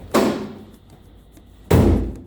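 Two solid slams of a classic Austin Healey car door shutting, close and loud, with a quiet pause of about a second and a half between them.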